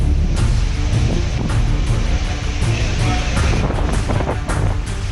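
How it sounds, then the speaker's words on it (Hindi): Strong winds and heavy rain lash Bhadrak, Odisha, ahead of Cyclone Amphan, a loud continuous roaring rush with gusty low buffeting and no voices. "ओडिशा के भद्रक में भी तूफान से पहले तेज हवाओं के साथ झमाझम बारिश हो रही है।"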